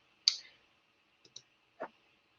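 Computer mouse clicks, three or four sharp, close clicks spread over about two seconds, with a quiet steady background hum and no talking.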